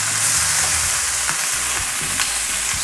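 Meat for a pot roast browns in a pot on a stove turned to its highest heat, giving a loud, dense, continuous sizzle with a few faint stirring knocks and no voices.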